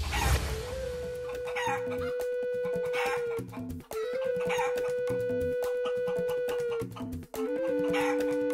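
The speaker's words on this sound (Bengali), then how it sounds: "অনেক মুরগি পিছু নিয়েছে।" Chickens cluck and a rooster crows over a steady musical background, the animal calls repeating through the scene with brief dips in the sound.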